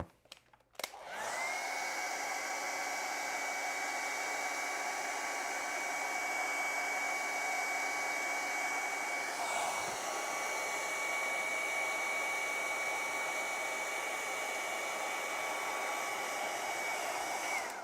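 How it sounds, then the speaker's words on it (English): A hairdryer blows steadily to dry a fixative-sprayed pastel and colored pencil drawing on Canson paper, switching on with a click and running as a loud, constant whir with a brief shift partway through. "And then I'm going to take a hairdryer to dry that."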